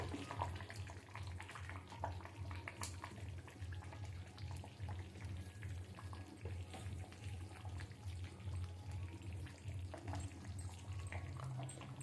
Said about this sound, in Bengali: ঝোল ফুটছে আমি একটু ফ্রেশ ক্রিম দিয়ে দিলাম